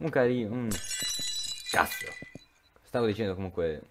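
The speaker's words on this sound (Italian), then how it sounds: "La bambola è caduta e si è rotta." A porcelain doll falls and shatters in the horror game Paranoiac, giving a sharp glassy crash and a tinkling scatter of fragments between stretches of someone talking.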